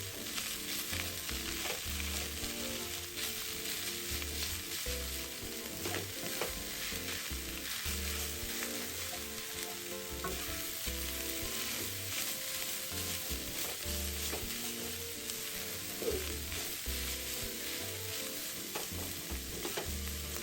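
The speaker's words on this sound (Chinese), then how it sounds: "摊散后持续翻炒" Shredded carrot and white radish filling for Hakka vegetable dumplings stir-fried in a pan, a steady continuous sizzle with repeated scraping and stirring strokes throughout, close and even in level, no talking.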